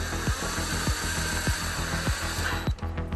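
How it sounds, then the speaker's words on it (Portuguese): A power tool snugs car wheel bolts after a suspension ball joint repair, sounding as a steady whir broken by about six evenly spaced ratcheting impacts before it winds down at the end. "a gente encosta os parafusos de roda"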